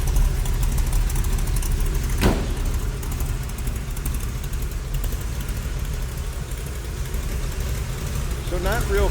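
Exhaust rumble from the engine of a 1930 Ford Model A five-window coupe street rod, a steady low idle close by and fairly loud, not harsh, with a brief sharper sound partway through.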